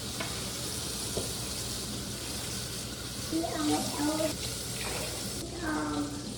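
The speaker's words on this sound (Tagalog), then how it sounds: "Habang priniprito ko yung mandu, magluto ako ng rice." Mandu dumplings frying in a pan, a steady soft sizzle running throughout at moderate level, with someone talking quietly over it in the latter half.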